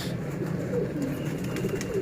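Pigeons coo continuously and close by in a low, rolling murmur, with no talking over them.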